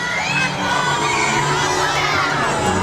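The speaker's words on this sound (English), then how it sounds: "Cheer loud!" At a Christmas parade sausage race, children and a street crowd cheer loudly and continuously, high excited shouts and whoops blending into one dense roar.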